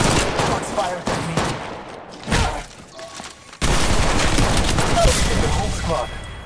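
Rapid gunfire bursts from the mobile battle royale game Apex Legends Mobile, loud and dense, with a brief lull before a sustained volley of shots, while a voice talks over the action.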